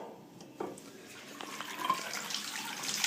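Water rushes from a newly opened supply line under a sink that feeds a side-inlet water heater, a steady hiss building in strength through the clip, with no voices.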